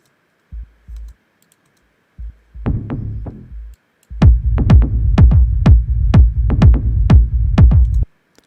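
Deep sub bass notes come first in short bursts, then a punchy kick drum pattern joins, layered over a booming low-end throb, loud and rhythmic.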